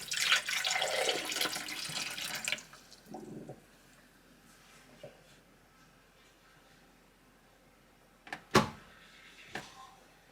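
Tap water runs loudly into a hotel coffee maker's reservoir for a couple of seconds and then stops, followed by quiet handling noises and a few sharp clunks and knocks nearby.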